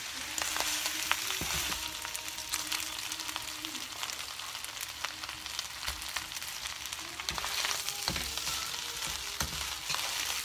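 Rice and frozen vegetables frying in a pan, a steady quiet sizzle with crackling pops and occasional scraping of a utensil against the pan, no voices over it.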